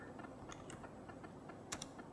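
Quiet, steady typing on a Mac laptop keyboard as a terminal command is entered, with soft rapid key clicks and a couple of slightly sharper taps over faint background noise.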